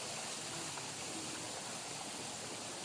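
Clear stream water flows through a natural setting with a steady, close rushing and burbling that continues unbroken throughout.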